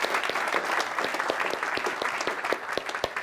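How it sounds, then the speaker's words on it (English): An audience at a showcase event breaks into a round of applause, with a thick wash of clapping and sharp individual claps standing out close by. "Yes, that does need a round of applause"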